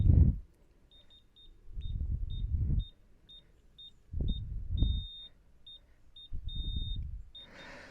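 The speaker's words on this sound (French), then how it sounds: "tu as le premier bip." An Anpuds digital torque wrench gives a string of short, clean electronic beeps at a steady rhythm as it reaches set torque, with one longer tone partway through, over low rumbling handling noise.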